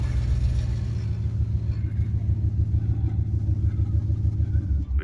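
A lowered lowrider car with a swapped LS V8 cruises slowly, its loud, deep exhaust rumbling close and continuous with a steady throbbing pulse and no letup.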